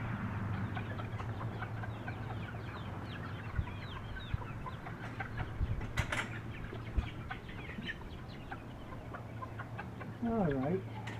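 Chickens cluck steadily at feeding time in a farm pen on a damp, cool day, a busy continuous chatter with a brief louder squawk near the end.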